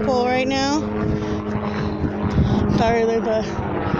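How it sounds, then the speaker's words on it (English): A helicopter passes overhead at a fishing retreat, a steady engine drone and rotor hum running throughout beneath people talking nearby outdoors. "there's a helicopter going right here"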